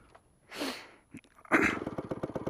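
A Yamaha RX 100 two-stroke motorcycle in a Yemeni village coughs through a failed start attempt, then catches and settles into a loud, close, rapid popping idle.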